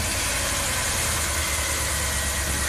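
A Ram camper van engine, one that stalls after a hot soak, idles steadily with a low, continuous rumble and faint vibration close by, no voices over it.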